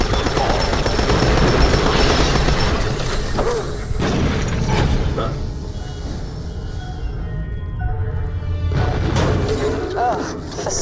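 Old turrets fire in the video game Borderlands: The Pre-Sequel, a dense loud stream of mechanical gunfire and booms under a speaking voice, briefly easing before picking up again.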